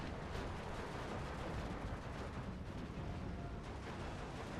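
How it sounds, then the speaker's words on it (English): Rolling artillery barrage in the WWII strategy game Steel Division 2, a dense, continuous rumble of distant shell impacts and booms with no clear gaps, steady and moderately loud throughout. "he's got it on, like, the rolling barrage"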